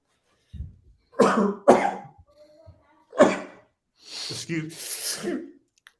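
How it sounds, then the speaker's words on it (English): Several sharp sneezes and coughs burst out in separate clusters near the microphone, with short pauses between them and a soft breathy sound at the end, loud and isolated with no talking in between. "That's my last sneeze."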